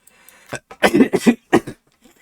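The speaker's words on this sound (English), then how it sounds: "excuse my coughing" A person coughs several times in quick succession, close and fairly loud, with no other sounds around it.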